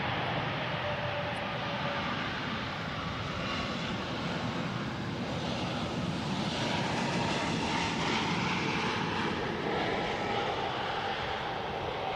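A Jetstar airliner touches down in gusty wind at Wellington Airport, its engines producing a steady loud roar with broad rushing noise that holds for the whole stretch, heard from a distance without any talking.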